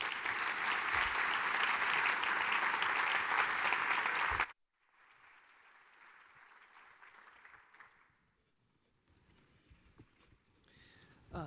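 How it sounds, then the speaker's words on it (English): An audience at the closing session of the 2015 Reagan National Defense Forum applauds loudly and steadily as speakers take the stage. The clapping cuts off abruptly, leaving a quieter room with faint rustling. "give them a big round of applause"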